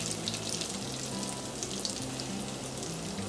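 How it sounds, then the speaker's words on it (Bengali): Chopped onion frying with garlic in a hot pan for Bangladeshi-style Chinese Hakka noodles, a dense, steady sizzle that holds loud and even throughout with no talking. "এবার আমি এর মধ্যে দিয়ে দিচ্ছি পেঁয়াজ কুচি।"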